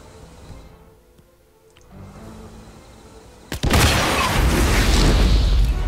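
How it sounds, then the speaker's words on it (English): An explosion in the video game Hitman erupts suddenly after a quiet stretch of ambient game sound, becoming a loud, sustained roaring rumble that fills the rest of the scene. "I'm getting an explosion out of this one way or another"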